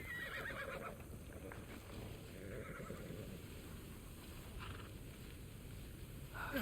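A horse in Immortals Fenyx Rising neighs faintly amid soft hoofbeats and a dense game ambience, quiet and somewhat distant throughout.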